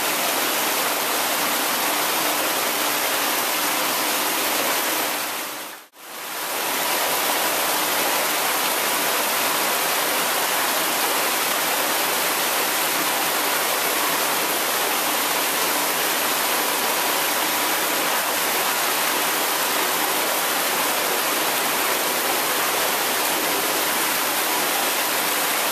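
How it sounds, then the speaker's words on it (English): Water spilling gently over a wastewater treatment spillway at a sustainable lodge in Glen Arbor, Michigan, a loud, steady close rush of falling water that cuts out briefly once before resuming unbroken. "The water spills off gently to the sides."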